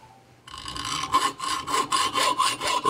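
Steady back-and-forth saw strokes cut a slot into a clamped exhaust pipe from a Kubota B2601 tractor, about a dozen even rasping passes, close and loud, with no talk.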